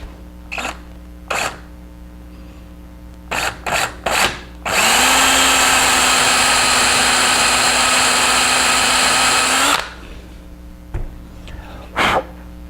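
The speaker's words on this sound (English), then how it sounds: "I'm not brave enough to drill a 3/8 inch wide hole here in the frame, I start with a 1/4 inch hole" Power drill boring a 1/4 inch hole into a wooden Greene and Greene style picture frame, a loud steady whine lasting about five seconds, framed by short clicks and brief bursts before and after.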